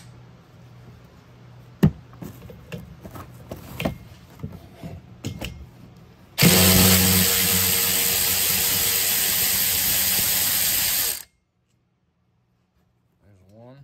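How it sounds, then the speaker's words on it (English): A DeWalt cordless ratchet with a 14 mm socket on a short extension drives a bolt on a 2015 Nissan Rogue. The motor whirs loudly for about five seconds after some clicking handling noises and speech, then stops abruptly. "I got a 14 millimeter on a short extension on the DeWalt ratchet."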